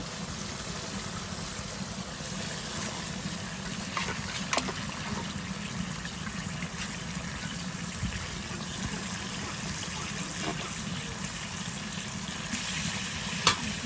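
Meat sizzles and fries in hot oil in a home kitchen pan, a constant crackling hiss with occasional sharper pops and faint stirring, close and steady with no speech over it.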